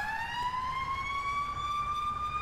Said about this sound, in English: We're gonna turn that siren off.